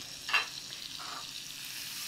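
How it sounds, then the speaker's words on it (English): A brief burst of frying sizzle as onions go into a hot pan, then a steady soft hiss as they cook, fairly quiet and close. "I'm gonna put some onions. Ah, listen, that's sizzling."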